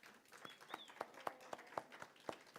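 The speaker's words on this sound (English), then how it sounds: "let's give them a round of applause" Sparse, faint applause from a small congregation at a Sunday church service, about nine distinct claps at a steady rhythm, with a faint bird-like chirp in the background.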